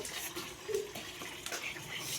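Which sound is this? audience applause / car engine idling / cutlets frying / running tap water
running tap water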